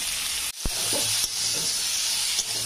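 Cut gourd leaf stems drop into hot oil with small fish and salt, then sizzle steadily while a spatula stirs with a few soft knocks against the pan.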